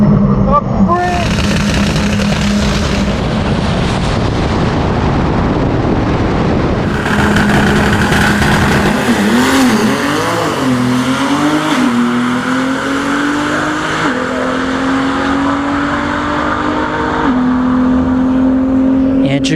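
Drag race cars launching down a quarter-mile strip, a Tesla Model S Plaid against a twin-turbo 6.0L 240SX, engines roaring loud and continuous for the whole stretch with rising tone as they pull away, a commentator talking over it.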